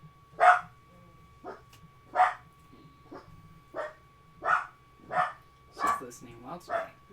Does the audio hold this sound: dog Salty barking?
yes